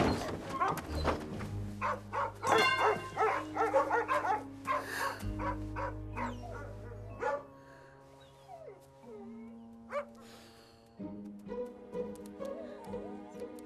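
Several dogs bark and yip in short bursts, then whimper softly, over a bed of music while someone talks to them off and on; the barking is close and lively early on, thinning out later.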